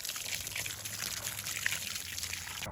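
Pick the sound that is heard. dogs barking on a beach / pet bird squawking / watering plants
watering plants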